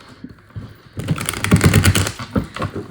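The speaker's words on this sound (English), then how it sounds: "that was a terrible shuffle. Let's try that again." A deck of tarot cards is shuffled in a quick riffle, a dense flurry of rapid crisp flicks and clatter starting after a quiet moment and running close and fairly loud to the end.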